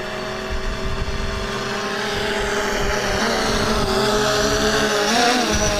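A small drone flies near the Friendship Monument between Russia and Georgia with a loud, continuous buzzing whine that shifts slightly in pitch, heard close and steady throughout.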